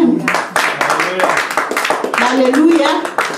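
Hand clapping from a church congregation during a French-language sermon, quick irregular claps close by under a continuous loud voice speaking and calling out.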